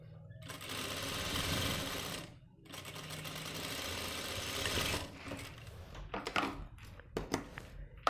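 Sewing machine running in long continuous bursts while stitching the side and inside seams of men's trousers, loud and steady, pausing briefly, then giving way to shorter intermittent stitching bursts and handling noises near the end.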